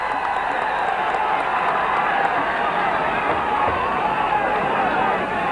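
Steady roar of a crowd at a Gaelic football county final, sustained cheering and babble at even loudness, with no distinct peaks, heard from within the stands.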